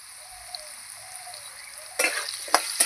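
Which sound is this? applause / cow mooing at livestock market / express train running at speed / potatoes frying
potatoes frying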